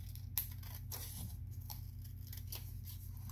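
Scissors snip through paper while shapes are cut out for a gluing craft, giving a few faint, crisp cuts spread irregularly over a quiet room background.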